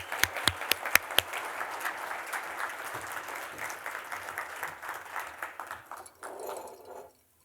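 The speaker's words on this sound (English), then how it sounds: "Applause for Ann and John." An audience claps for two people at a talk event, opening with a few loud, distinct claps before settling into steady, moderately distant applause that fades out and stops near the end.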